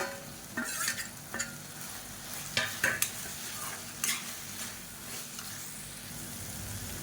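Tomato and grated coconut being sautéed in a pan for spicy chutney: a spatula scrapes and turns the mixture in a few irregular strokes over a faint, steady sizzle, close and quiet.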